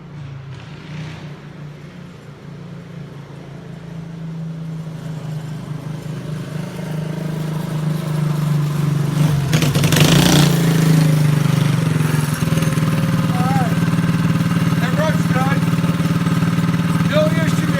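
A lowered homemade mini bike's small engine drones steadily, growing louder as it approaches and then idling and revving close by, while a person talks over it.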